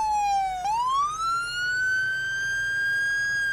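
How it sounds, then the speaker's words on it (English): A fire engine siren in the firefighting video game Into the Flames wails steadily, dipping briefly and then rising to a long held tone, loud and close with no talk. "let's kill the siren"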